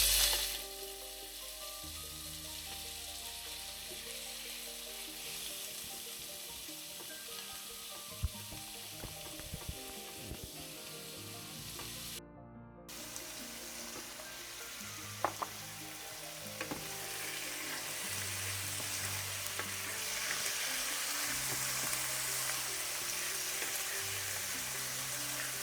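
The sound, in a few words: small chicken breast pieces frying in olive oil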